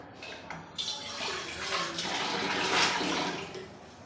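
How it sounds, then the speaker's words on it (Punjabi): Tap water rushes steadily into a pressure cooker in a kitchen sink as it is washed, a close, continuous splashing hiss that swells slightly toward the end. "ਕੁੱਕਰ ਰੱਖ ਕੇ ਧੋ ਲੈਣੀ ਆ ਕੁੱਕਰ ਧੋ ਕੇ"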